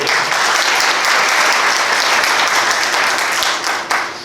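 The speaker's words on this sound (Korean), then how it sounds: "힘찬 투쟁사 해주신 지회장 동지께 다시 한번 큰 박수 부탁드립니다" Enthusiastic audience applause at a union public hearing, dense sustained clapping from a large crowd filling the room, loud and steady before tapering slightly at the end.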